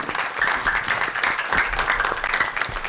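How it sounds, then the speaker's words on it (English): A crowd's round of applause for parents at a City of Commerce gathering, moderately loud and fairly close, with the clapping swelling and fading unevenly and a few voices mixed in. "Give them a round of applause"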